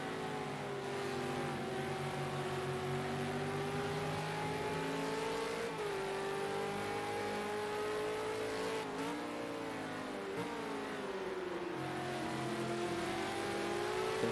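V8 Supercars race around Bathurst in a sim racing game with a car engine revving hard under load. The pitch climbs steadily, dips briefly at gear changes and climbs again in a loud, continuous stretch with no talk.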